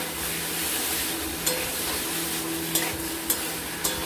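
Spiced masala sizzling and frying in a pan over a medium flame, a steady close hiss with a few sharp stirring clinks from a utensil, no voices.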